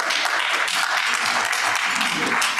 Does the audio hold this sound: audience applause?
yes